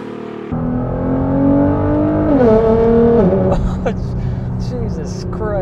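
Tuned 2018 Nissan GT-R with a 3.5-liter twin-turbo V6 and massive exhaust pipes starts and pulls away, its engine droning and rising through revs, dropping at a shift and rising again, with a voice exclaiming over it toward the end.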